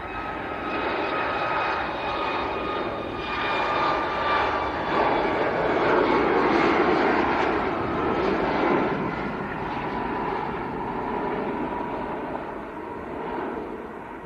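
A Ryanair passenger jet bound for Faro rumbles at Leeds Bradford Airport, a steady, moderately distant engine roar that swells and fades slightly over about fourteen seconds with no talk.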